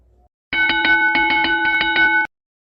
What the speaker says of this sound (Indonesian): Ketika kalian mendengarkan suara lonceng, kita akan memulai permainan kita.